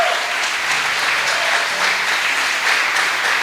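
A church congregation applauds in praise, dense sustained clapping filling the room steadily from start to finish, with a faint voice briefly rising beneath it.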